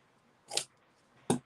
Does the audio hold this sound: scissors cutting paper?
yes